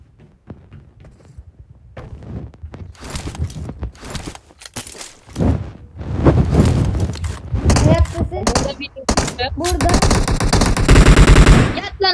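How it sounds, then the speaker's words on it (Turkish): Video game gunfire rings out in repeated automatic bursts and single shots, growing louder and denser, with excited talk and shouting running over and between the shots. "Yarım saattir beni vuruyor ya."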